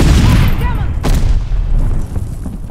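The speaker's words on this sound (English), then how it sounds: "Tossing stun grenade." A stun grenade goes off in a Call of Duty: Vanguard Domination match on the Berlin map, a loud booming blast with a sharp crack about a second in, followed by rumbling decay and distant gunfire.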